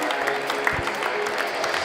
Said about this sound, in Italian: Un applauso per l'MC di questa serata, Giuliano Dule